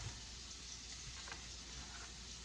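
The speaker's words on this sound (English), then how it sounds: "I'll throw this in my pan with my onions" Onions frying in a pan with a steady, soft sizzle that holds evenly throughout, fairly quiet and with no voices over it.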